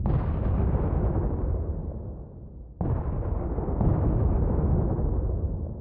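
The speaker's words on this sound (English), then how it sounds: "watching this cannon kill guards" A cannon in the game Deadman Apocalypse fires in heavy booming blasts. A loud rumbling explosion decays, then a second sharp blast strikes near the three-second mark and rolls on with sustained low roar.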